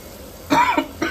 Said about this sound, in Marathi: मला का अजून खोकला लागतोय रे?